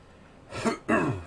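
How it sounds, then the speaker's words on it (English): Two quick rasping throat-clearing bursts, close to the mic, the second stronger than the first, over faint background hiss. "I had to clear my throat there."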